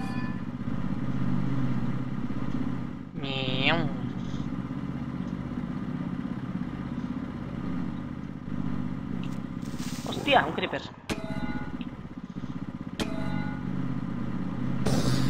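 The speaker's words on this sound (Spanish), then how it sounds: "voy en la moto, no tardo nada en llegar" A motorcycle is ridden in modded Minecraft, giving a steady mechanical engine drone with clattering bursts, while people talk and exclaim over it throughout.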